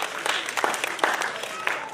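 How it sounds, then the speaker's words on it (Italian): A live audience at a magic show claps briefly, with a soft patter of many hands fairly close and a faint voice underneath. "Grazie dell'applauso spontaneo"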